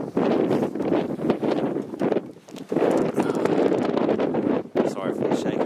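Wind roars and buffets the microphone on the open Max Patch mountain summit, loud and gusty throughout with brief lulls, while a person talks under it.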